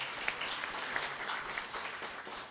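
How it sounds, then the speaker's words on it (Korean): Congregation applause in a church during a Sunday service welcoming newly registered members: steady, fairly faint, dense clapping from a crowd that sustains throughout without a clear break. "다시 한번 환영의 박수 드릴까요?"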